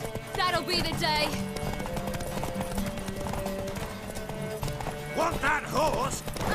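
Horse hooves galloping in The Witcher 3: Wild Hunt near Oxenfurt, a steady clip-clop rhythm that runs throughout under voices talking.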